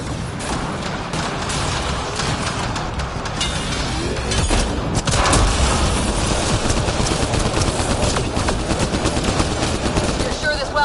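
Allied turret firing in Mass Effect Andromeda, a dense continuous stream of rapid gunfire and booms mixed with other combat noise, loud and sustained throughout, with voices talking over it.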